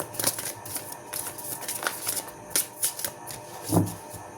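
Tarot cards being shuffled by hand, soft papery riffles and flicks in uneven bursts, close and fairly quiet, with no voice over them.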